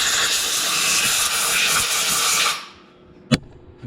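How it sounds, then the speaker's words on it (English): Compressed air blows off a freshly sanded brake caliper from an older car or truck in a loud, close, steady hiss that cuts off abruptly, followed by a short sharp knock in the quiet. "blow it off again just for good measure"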